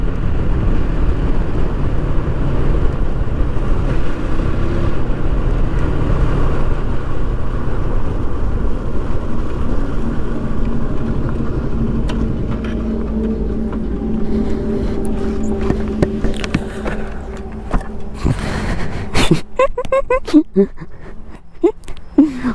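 Steady broadband road and engine rumble from a car travelling at speed, loud and continuous, with a person talking over it and the noise easing and breaking up toward the end as the car slows into parking.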